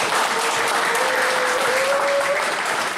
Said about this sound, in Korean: 다시 한번 우리 저 서 작가님에게 큰 박수